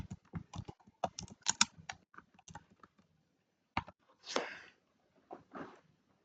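Keys clatter on a computer keyboard in quick bursts of close clicks, typing out a search term in an online design tool, pausing briefly before a few final taps and strokes.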